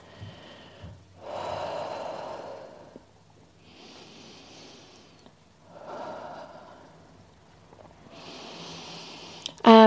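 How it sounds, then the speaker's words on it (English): Deep, slow breathing during a yoga flexibility session, several long audible inhales and exhales in a quiet room, with no talking. "Look over that left shoulder and take 3 deep breaths."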